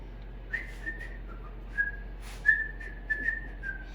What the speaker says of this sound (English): did you know that your food will taste better if you whistle a tune while you're cooking it?